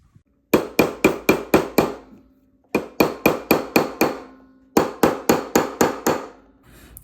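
A platinum wedding band is hammered on a ring mandrel to size: three close bursts of five to six sharp, evenly spaced metallic blows, each ringing briefly, separated by short pauses.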